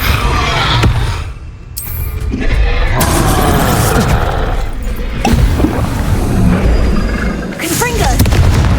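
Confringo blasting curse in a Hogwarts Legacy battle, a loud, deep explosive boom and rumbling blasts that repeat amid dense combat noise, with a voice shouting over the din.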